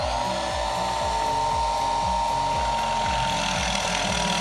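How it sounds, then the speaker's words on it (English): A power drill bores into a wooden dowel for a small race-gate base, its motor whining at a steady pitch while the bit grinds through the wood in a fast, regular rhythm, loud and up close. "Now we're ready to drill again."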